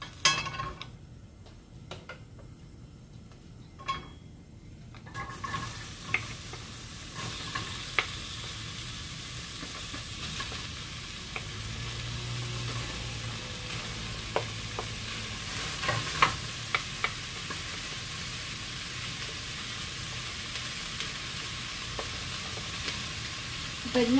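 Onion fries in a pan for chicken adobo cooked without oil, opening with a few near utensil knocks before a steady sizzle swells in and carries on under occasional sharp clicks and scrapes of stirring.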